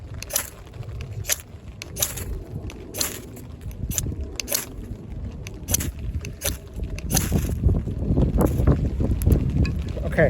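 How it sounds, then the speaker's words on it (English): Wind buffeting a microphone outdoors during a hike with a folding knife, rough low rumbling gusts that swell louder toward the end, mixed with scattered clicks and handling taps. "let me block the wind"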